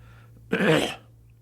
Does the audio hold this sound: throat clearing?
yes